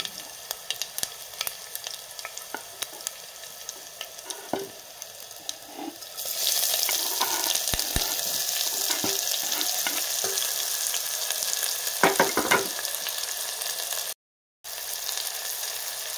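Onion sautés in hot oil with fried garlic in a home kitchen pan, starting as a quiet sizzle with scattered clinks and then jumping to a loud, steady frying hiss broken by stirring scrapes and a brief cutoff near the end.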